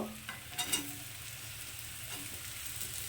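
Sliced radish dropped into a pan of fried onions for a vegetable stir-fry, an even soft sizzle with a few clatters as pieces go in, no talking.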